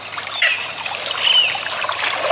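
Stream water trickles along a Kerala waterway, a steady bright babbling with light splashes and occasional birdlike squeaks, close and fairly loud throughout.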